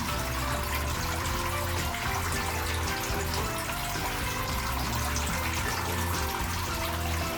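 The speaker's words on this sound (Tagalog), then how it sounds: "Yung water pump ko pala, 6 watts." A small 6-watt water pump runs in a crayfish grow-out pond, producing a steady, close splashing and trickling of water with no pauses.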